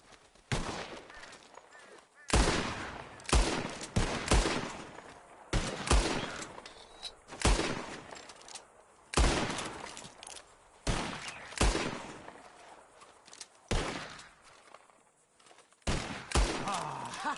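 Rapid bursts of gunfire crack out in clustered volleys from several shooters aiming at birds in Red Dead Redemption 2, loud shots repeating every second or so with brief gaps, and a voice speaking between them.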